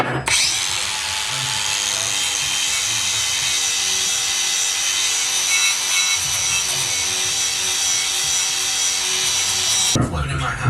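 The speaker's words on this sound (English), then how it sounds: "Just get them stripped down, get all the rubber and everything off, and clean them really well," Stripped brake calipers being sanded with a power tool, a loud, continuous high-pitched grinding whine that holds steady for about ten seconds and then stops abruptly.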